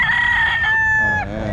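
A loud, close rooster crows once in a long drawn-out call at a busy pet market in Baliuag, the crow tailing off near the end with faint background noise beneath.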